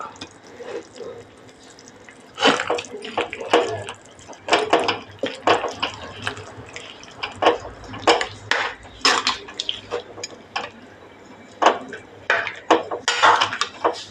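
Fish curry made with backwater fish, raw mango and coconut milk is stirred in a pot and then covered, with repeated metallic scrapes and clinks of spoon on pot coming close and fairly loud in irregular bursts.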